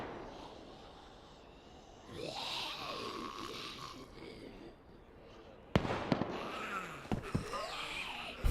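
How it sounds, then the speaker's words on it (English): Distant gunfire from players shooting at each other across the map in DayZ, heard as faint scattered cracks and pops, with a sharper cluster of reports near the end over a quiet game ambience. "These guys are shooting at each other from across the map"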